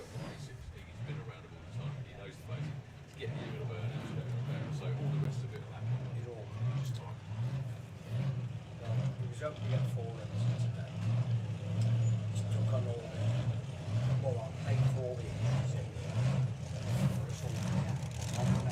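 A 1932 Ford-bodied supercharged Outlaw drag car idles and creeps in reverse after a burnout, its engine a deep, lumpy, pulsing rumble held steady and loud throughout, with a commentator's voice running over it.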